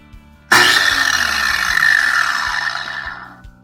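A small Harbor Freight grinder, meant for cutting 5/16 rod, switches on abruptly with a loud whine and a whirring roar that holds steady, then slowly fades as it winds down.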